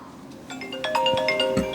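Mobile phone ringtone signalling an incoming call, a bright melodic sequence of tones that starts quietly and grows louder, heard clearly with no talking over it.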